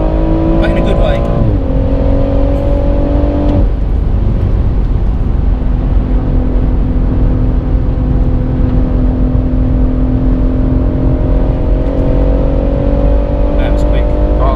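A BMW M140i Shadow Edition fitted with Bilstein B6 dampers laps a race track, its engine droning steadily with rising and falling revs through gear changes, loud and close inside the cabin while the driver talks over it.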